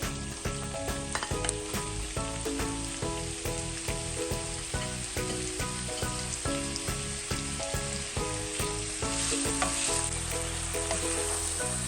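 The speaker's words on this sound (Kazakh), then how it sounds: "Қызып тұрған майымыздың үстіне тартылған сиыр етін қуырамыз." Minced beef hits hot oil in a pan and keeps up a steady, close crackling sizzle, heard alongside rhythmic background music for the whole stretch.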